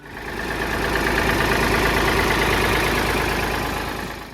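A Ford 4000 three-cylinder tractor engine idles with a steady, loud, even thrum that holds constant throughout, with no voices.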